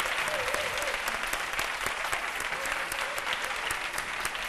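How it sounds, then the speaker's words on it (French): Dense, steady applause from a studio audience greets a TV producer and presenter guest on a French midday show, a close and even wash of clapping with faint voices underneath. "Je vous demande de l'applaudir."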